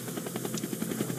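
A helicopter from the Happy Wheels video game gives off a steady, fast rotor chop that keeps going the whole time with no talking over it.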